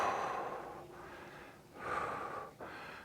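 Breathing during a Pilates reformer exercise comes as slow, audible breaths close to the microphone, with a long exhale, a brief pause, then another breath.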